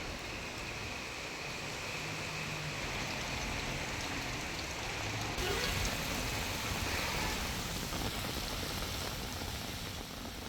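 Heavy rain pours down in Hubballi during a thunderstorm, a dense, steady hiss of falling water at moderate level, continuous and without voices.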